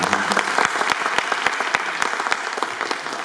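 Steady applause from a seated audience at a Jhoke TV anniversary event in Multan, many hands clapping together with dense, even crackle and a few sharper claps standing out, no voices over it.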